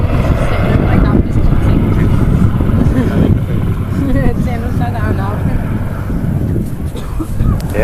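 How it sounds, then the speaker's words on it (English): A Westland Lynx helicopter performs an air show display, a loud, wind-buffeted rumble of engine and rotor continuing throughout, heard under a commentator's steady talk. "shaft horsepower to the rotor blades that thrash the air into submission and propel the aircraft through this routine"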